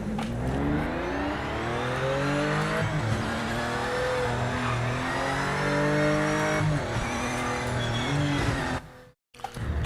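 A race car in the Project Motor Racing video game accelerates hard and loud, engine note climbing steadily through gears with brief dips at shifts, close and continuous, then cutting out abruptly near the end.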